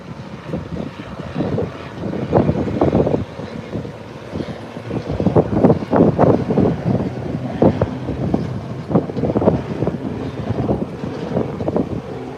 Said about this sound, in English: So the Cessna will take a short takeoff